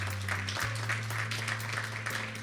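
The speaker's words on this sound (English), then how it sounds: "Let's give her a round of applause." An audience at a community talk event claps for a guest, a moderate, steady patter of hands lasting a couple of seconds over a low electrical hum.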